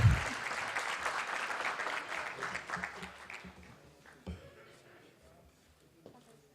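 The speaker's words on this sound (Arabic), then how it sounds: "يلا تصفيق." An audience at a university gift presentation applauds in a dense, steady burst of clapping that fades over several seconds to scattered claps, with a few voices emerging near the end.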